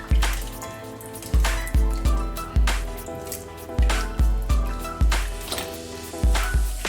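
Seasoned oxtails with lemon juice are mixed by hand in a bowl, giving a steady rhythm of wet squelching slaps about every half second, close and fairly loud with no talking.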